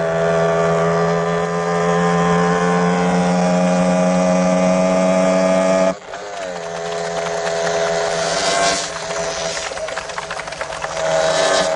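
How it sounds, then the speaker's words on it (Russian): The engine of racing motorboat number 12 drones with a steady harmonic tone, then cuts out abruptly and comes back rough and uneven as it misfires from a carburetion fault during a competition. "мотор номер 12 дает перебои"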